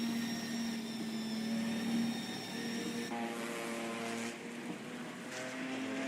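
A race car engine in Assetto Corsa Competizione at Snetterton whines steadily at high revs, shifting pitch as it changes gear midway, with continuous tire and road noise and no talking.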